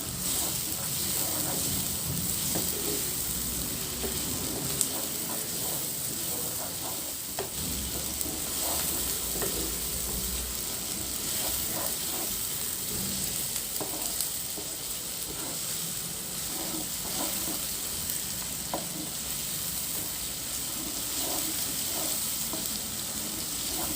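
Onions fry in a pan as the start of a chicken curry, giving a continuous close hiss and sizzle with faint stirring scrapes throughout and no voices.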